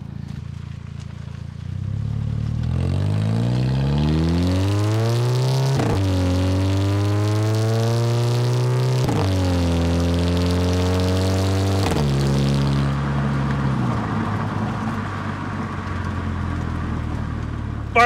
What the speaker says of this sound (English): so you can kind of hear the exhaust from outside from the back